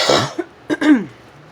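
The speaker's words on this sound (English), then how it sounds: "I apologize for in advance for clearing my throat and coughing a little bit" A person with lingering effects from COVID coughs and clears their throat up close, a few short harsh bursts followed by a longer gravelly rasp, then quiet.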